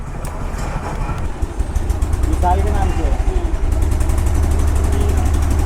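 A delivery motorcycle's engine idles with a steady low throbbing hum as the rider parks at a drop location, heard close and continuous beneath someone talking.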